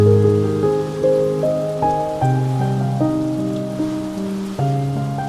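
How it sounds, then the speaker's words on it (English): Heavy, very windy rain downpour sweeping down outdoors in sheets, a dense continuous hiss of rain with no voices. "a pretty wicked downpour came in, very windy"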